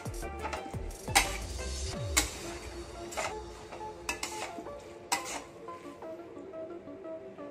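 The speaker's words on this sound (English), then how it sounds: "Let us give it a good stir and mix everything well." A spatula stirs rice noodles and garlic chives in a wok, making irregular clinks and scrapes against the metal over a faint sizzle, close and fairly quiet.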